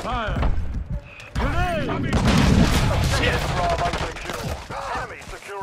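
Loud, dense gunfire and explosions in a multiplayer match of Call of Duty Modern Warfare III, with rapid overlapping shots and booms as in-game voices shout callouts.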